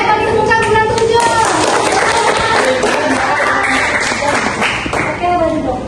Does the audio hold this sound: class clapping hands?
yes